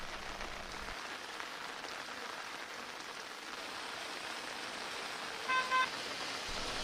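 Steady rain falling over Hamhung in South Hamgyong Province, an even hiss throughout with a brief distant car horn toot near the end.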